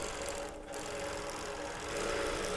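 A 24-inch quilting machine runs quietly, giving a soft, steady mechanical whir and hum with a faint rhythmic stitching buzz, close but low in level.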